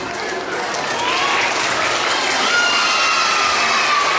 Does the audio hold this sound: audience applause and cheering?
yes